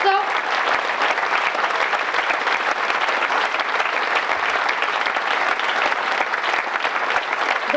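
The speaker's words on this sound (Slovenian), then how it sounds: "zaslužijo res še en aplavz" After a municipal wind orchestra concert at an outdoor opening event, an audience claps in a dense, even round of applause that continues steadily throughout.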